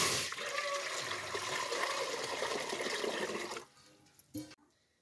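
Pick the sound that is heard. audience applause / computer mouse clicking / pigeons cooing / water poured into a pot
water poured into a pot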